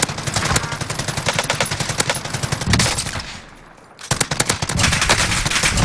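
Automatic gunfire in the Warzone video game: loud, rapid bursts of shots that crackle continuously, break off for a brief lull, then resume at full intensity.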